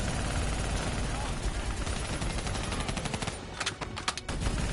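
Players fire continuously at a VTOL aircraft in the Black Ops 3 video game campaign, producing dense, loud, rapid automatic gunfire with crackling bursts throughout.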